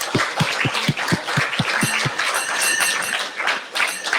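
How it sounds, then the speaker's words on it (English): An audience at a religious discourse session applauds, opening with a few separate, sharp claps that quickly swell into a dense, sustained round of clapping from many hands. "Give him a round, please, of applause."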